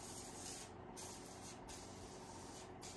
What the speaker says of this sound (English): we're going to spray all these down